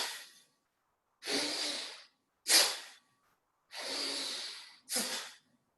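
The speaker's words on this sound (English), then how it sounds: "we are going to breathe in heavily, like with pressure, and breathe out with force" Forceful nasal breaths for a yoga exercise come in and out in four strong, hissing strokes, each about a second long, separated by short silences, close and alone.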